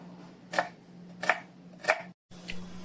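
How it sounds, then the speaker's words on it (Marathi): A knife slices lengthwise through an ingredient for a masala paste in a home kitchen, three crisp evenly spaced chops and a fainter fourth, close and clear over a low steady hum. "त्यामुळे तो हा असा उभा चिरायचा आहे"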